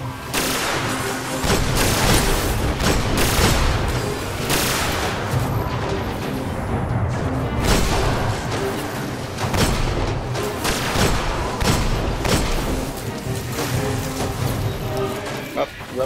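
Gunfire from enemy weapons in the Destiny video game, including shots from a wizard enemy during a strike mission, rattles in dense, continuous bursts throughout, mixed with booming impacts and game effects at steady loudness.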